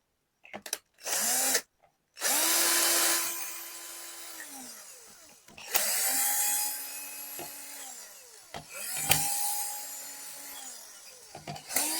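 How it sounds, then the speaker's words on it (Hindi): A torch light is unscrewed by a powered driver, with several loud whirring bursts that rise and fall in pitch, separated by short pauses and small clicks, close and alone. "जितना भी यहाँ पर नट बोल्ट दिया है हम इसको खोल देते हैं"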